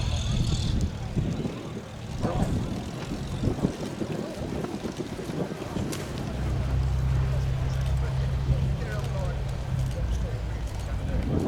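A vintage light aircraft, a B.A. Swallow or Klemm L-25 at the Festival of Flight air show at Shuttleworth, runs its propeller engine with a steady low drone that grows stronger midway, while a commentator talks throughout.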